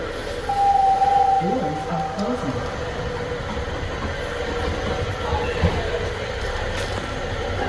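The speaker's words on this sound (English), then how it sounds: "We're on the Broad Street subway here at Patterson, or NRG station" Philadelphia Broad Street subway car, specially wrapped in Flyers livery, rumbles along at Pattison (NRG) station, with a steady rolling roar, a brief high squeal of wheels or brakes, and low mechanical tones underneath.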